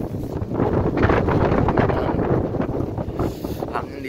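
Strong, bitterly cold wind at minus six degrees buffeting the microphone, loud gusty roaring that swells and eases in waves throughout, with no clear talk.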